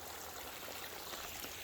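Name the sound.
warm spring water flowing from underground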